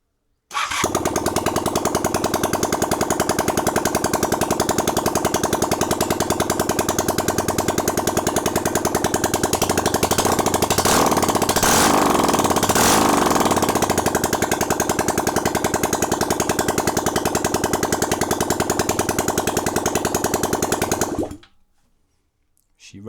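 A motorcycle engine freshly given a top end rebuild runs with no exhaust fitted, a harsh, loud, rapid-firing open bark held steady for about twenty seconds before cutting off abruptly.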